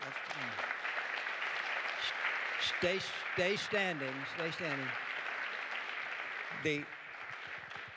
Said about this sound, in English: The applause is appreciated